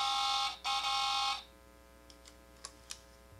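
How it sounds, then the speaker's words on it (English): Electronic sound effects from an older Optimus Prime toy figure: a loud, harsh buzzing alarm-like burst lasting about a second with a short break. A few faint clicks follow. "sound effects on the old figure triggered here"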